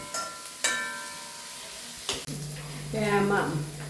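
Onions sizzle in a hot pan while being stirred, a close crackling fry broken by sharp clanks of a spoon against the pan, growing busier toward the end.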